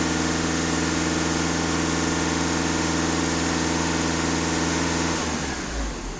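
A VW Touran engine with a stuck EGR valve and thermostat is held at raised revs during a check, a loud, steady close-up drone that drops back toward idle near the end.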